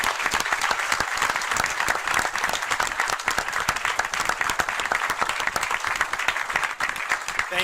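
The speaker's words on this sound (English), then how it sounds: "could you all give a round of applause to our congressman and to our panelists, please?" Steady, dense applause from a symposium audience for a congressman and an aviation tourism panel, sustained and fairly loud across the whole stretch with no talk over it.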